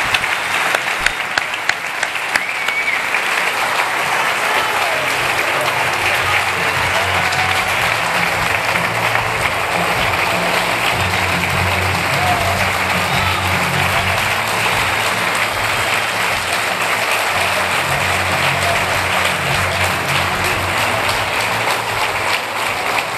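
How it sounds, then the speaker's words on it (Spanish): A sustained ovation from an indoor audience at a sports awards gala honoring a boxer, with dense, even clapping that runs loud and unbroken for over twenty seconds with almost no voices. "Una cerrada ovación"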